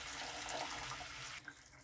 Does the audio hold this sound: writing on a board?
no